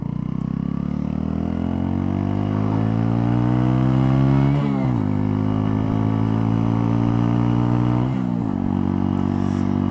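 A 2018 Mutt Fat Sabbath 125cc motorcycle engine revs steadily while riding, its pitch climbing through the gears with two clear gear-change dips, loud and close throughout with no talk.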